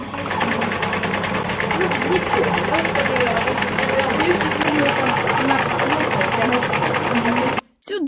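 A homemade camouflage-net weaving machine built from sewing-machine wheels, old furniture castors and an old washing machine motor whirs and rattles steadily and loudly, with a fast mechanical clatter throughout before stopping abruptly.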